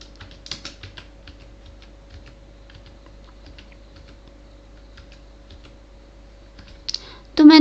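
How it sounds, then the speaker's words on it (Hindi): Typing on a computer keyboard while entering data in Tally accounting software: a steady run of light, quick key clicks, loudest in a brief burst near the start and a louder clatter at the end, with no speech. "अब मैं टाइप करूँगी"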